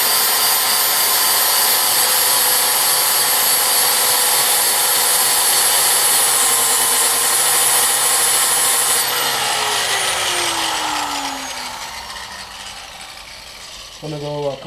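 A grinder cuts into aluminum during a Mercedes coupe supercharger installation, a loud, steady high-pitched whine that holds for about nine seconds, then spins down and fades, ending with a few light clicks.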